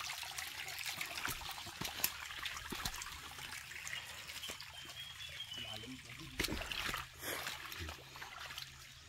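Water from afternoon rain flows and trickles steadily outdoors, a faint continuous wash with occasional small splashes.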